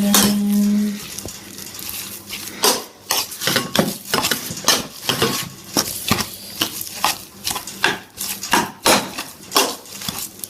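Turkey stuffing with lemon zest and parsley being mixed in a bowl, a busy run of rapid metallic clinks and scrapes from a utensil against the bowl, close and loud, after a brief low hum at the start.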